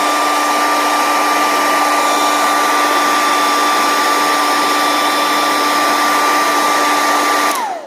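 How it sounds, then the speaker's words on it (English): A hair dryer blows loudly and steadily at close range with a constant whining hum, then switches off and winds down at the end. "there is no shame in just turning the hairdryer back on"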